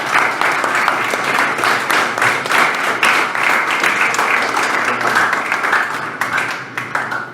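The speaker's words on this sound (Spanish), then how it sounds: "pero fuerte aplauso sostenido" A lecture audience gives a loud, sustained round of applause, dense clapping filling the hall without pause for several seconds before easing slightly at the end.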